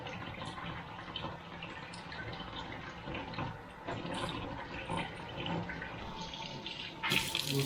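Tap water runs steadily into a kitchen sink as food is rinsed under it, a soft continuous splashing with a sharper hiss of spray near the end.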